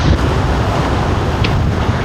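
Wind and rain sweep the open coastal headland of Binurong Point in Catanduanes. A loud, steady roar of gusting wind buffets the microphone, with no one talking.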